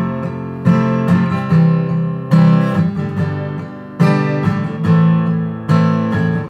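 Acoustic guitar strums the verse chord progression of a song in a steady rhythmic pattern, with loud, close chord strokes recurring about every second and a half and no voice over it.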